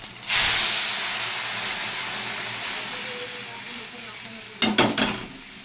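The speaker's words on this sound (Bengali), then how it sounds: "আমি এবার ডালটাকে দিয়ে দিচ্ছি।" Bitter dal poured into a hot tempering of bay leaves and ginger paste, a sudden loud sizzle that settles into a steady hiss, followed by a few near clinks and scrapes in the pan.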